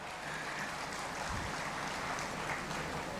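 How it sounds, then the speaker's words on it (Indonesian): Applause from the audience at the Muhammadiyah 113th anniversary reception during the West Java governor's speech: a dense, steady wash of clapping that continues at even volume throughout, with no clear speech. "Tepuk tangan ya."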